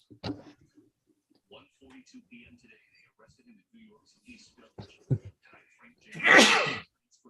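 A single sharp sneeze bursts out near the end, loud and close, after some quiet murmured talk and small clicks.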